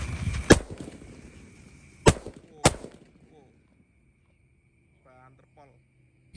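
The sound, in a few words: disco firecrackers going off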